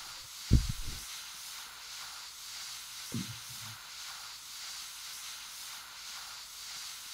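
A steady, close hiss of water spray washing down a fire vehicle in the Flashing Lights game runs throughout, broken by two brief low thumps early on; no one speaks.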